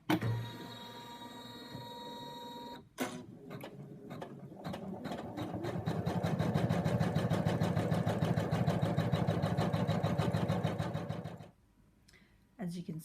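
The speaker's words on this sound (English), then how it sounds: "Put your design onto your embroidery machine, which I have done, and then you're all ready to go." An embroidery machine stitches a baby toy blanket design in a steady, close, rapid mechanical whir, with a short pause before it runs at full speed and then stops near the end.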